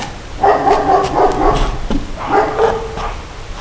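Dog barking in a fenced yard nearby, loud, repeated barks in two bursts with a brief pause between, no talk over them.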